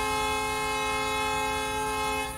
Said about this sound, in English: Trot on. Hooter.